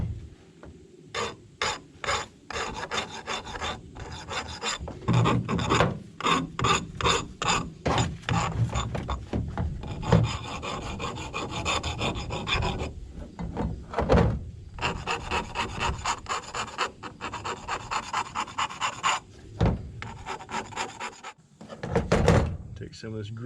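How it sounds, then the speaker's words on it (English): A hand file rasps in quick, repeated strokes across the cut end of a PTO shaft. The scraping comes close and steady in uneven bursts, with brief pauses and clunks between runs. "Take file, clean it up."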